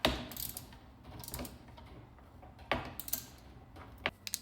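Bolts on a titanium license plate bracket tightened with a 6mm Allen key and a wrench, producing faint, close metallic clicks and short ratcheting scrapes in scattered bursts.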